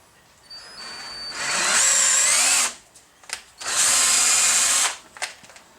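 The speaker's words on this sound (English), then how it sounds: "then I can use the bubble level on the drill" A handheld power drill bores holes in a brake part, running in two sustained high-pitched bursts of about a second and a few seconds each, with short clicks and handling noise between them.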